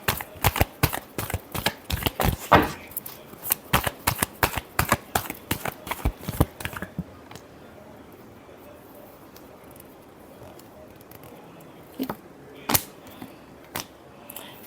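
Tarot cards shuffled by hand, producing a rapid series of crisp, close riffling snaps for several seconds, followed by a quiet stretch with a few isolated card clicks.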